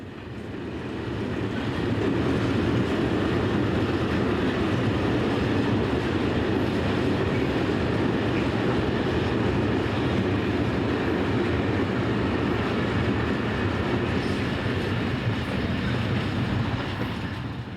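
Electric locomotive 6550 rolling past at Marseille-en-Plage, a loud continuous rumble of wheels and carriages with clickety-clack rhythm, close and steady throughout without voices.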